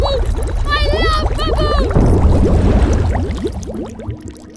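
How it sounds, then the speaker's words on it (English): Bubble mix glugs as it is poured into a cartoon car wash, a steady loud pour with splashy, watery gurgles over a whooshing fill, mixed with bright cartoon sound effects and music. "Let's put in all the bubble mix."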